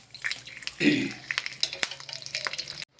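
Mustard seeds, curry leaves and sesame seeds are tempered in hot oil for cabbage dhokla, producing a sudden loud spit followed by rapid close popping and crackling that cuts off abruptly near the end.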